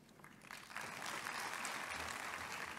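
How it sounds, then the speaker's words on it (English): An audience at a health conference applauds to welcome dignitaries, a steady, full round of clapping that rises after a brief start and holds evenly, with no talk over it. "put your hands together once again in welcoming all the dignitaries with a big round of applause"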